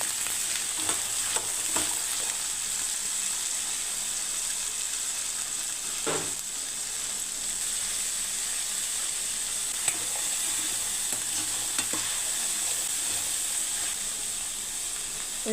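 Boiled white chickpeas fry in oil and butter while being stirred, a soft continuous sizzle with occasional spoon scrapes and clinks, close but moderately quiet, no speech.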